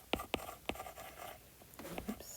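Pen writing by hand on paper, a few sharp scratchy strokes at the start, then lighter continuous scribbling, close and quiet with no talk.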